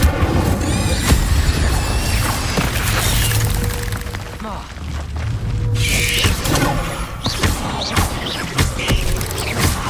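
Expelliarmus and Incendio spells cast in the Hogwarts Legacy video game: a dense, continuous wash of magical bursts, thumps and crackling impacts, loud and busy throughout, with other game effects layered in.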